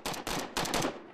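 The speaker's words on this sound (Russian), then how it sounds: "Взрывы слышны постоянно." Gunfire from fighting in Aleppo, Syria: two loud, close bursts of rapid shots in quick succession, each with a broad crackling blast.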